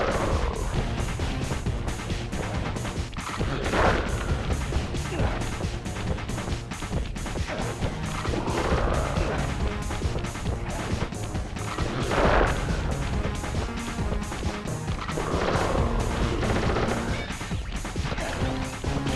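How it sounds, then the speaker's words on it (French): Mirrors being smashed in the Sly Raccoon video game: a dense, continuous run of crashing and whacking impacts over busy game music, with several louder bursts standing out. "Briser ces miroirs."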